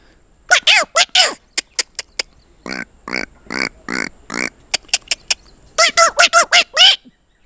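A man imitates the shrill call of a local Himachal bird with his voice, producing a series of sharp, piercing whistled chirps and longer warbling notes in quick bursts, loud and close with brief pauses between phrases.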